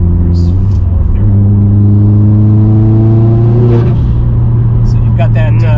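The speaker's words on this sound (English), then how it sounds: "I don't know if this camera will pick up some of the internal noises from the engine" A 500 HP Subaru STI with an external wastegate revs hard from inside the cabin, a loud droning engine note climbing steadily in pitch, then dropping on a shift before pulling again.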